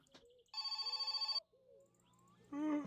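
A telephone rings in the video game My Summer Car, one loud, quick trilling bell burst, then quiet tones, then a short electronic tone near the end.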